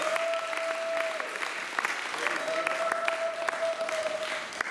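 A congregation applauds at a church anniversary service, continuous clapping under a held musical tone from an organ or keyboard, with a voice faintly audible beneath.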